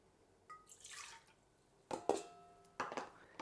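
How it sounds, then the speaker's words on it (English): Milk goes into a mixing bowl for apple doughnut dough in a quiet kitchen, arriving as three short splashy glugs with brief gaps between them, soft and close by, with no speech. "we'll start by putting the milk into the bowl"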